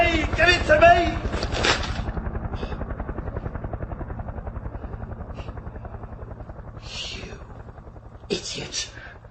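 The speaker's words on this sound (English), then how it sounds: "It's a helicopter come to look for us!" Helicopter flying overhead during a night search with a searchlight, a steady rapid rotor thump running throughout at moderate loudness while voices talk and shout over it.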